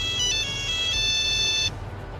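Phone ringtone in Farming Simulator 22, a bright electronic melody repeating for about a second and a half over low background game hum, then cutting off, with no talk during it.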